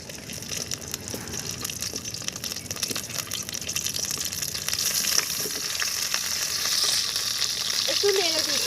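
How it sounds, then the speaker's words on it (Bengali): Large cauliflower pieces frying in hot refined oil for a cauliflower roast, making a loud, continuous bubbling sizzle that swells as more pieces go in, with occasional scrapes. "এখন আমি একে একে বড় সাইজের ফুলকপিগুলো এর মধ্যে দিয়ে দিচ্ছি।"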